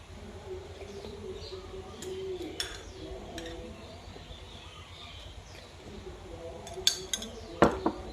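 A detox drink with kaffir lime peel, chili and sugar being mixed in a large glass, with scattered light clinks and taps from a spoon, and a few sharper rings near the end.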